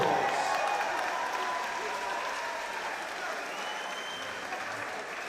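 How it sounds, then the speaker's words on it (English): Crowd applauding at a K1 kickboxing world title fight after five rounds, a dense, steady wash of clapping that slowly fades slightly, heard from within the arena. "A huge round of applause."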